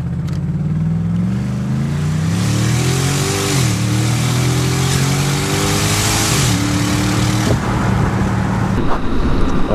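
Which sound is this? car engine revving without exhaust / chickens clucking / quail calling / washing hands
car engine revving without exhaust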